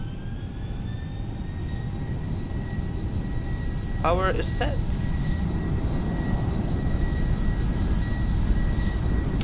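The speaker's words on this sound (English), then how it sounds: "We'll set power." Boeing 737-800 jet engines spooling up to takeoff power in the X-Plane 11 flight simulator, a steady broadband roar with whining tones running throughout, while a voice speaks briefly near the middle.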